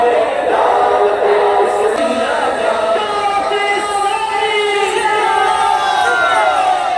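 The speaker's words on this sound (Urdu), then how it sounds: "اور پھر اس کے بعد دعوت اسلامی زندہ باد کے نعرے لگنے لگے ہیں۔" Large crowd at a Mawlid welcoming gathering in Karachi chanting Dawat-e-Islami zindabad slogans, a dense, loud roar of many voices with rising and falling shouted calls sustained throughout.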